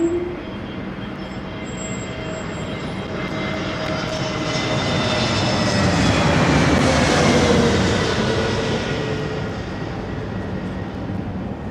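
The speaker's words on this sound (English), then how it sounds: "At first I thought they were doing engine run, but it turns out it's actually departures we're hearing, Danny Brink." A jet airliner departing London Heathrow Airport, its engine roar swelling steadily to a loud peak mid-way and then easing off as it passes, heard alone without voices.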